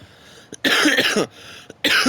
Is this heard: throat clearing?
yes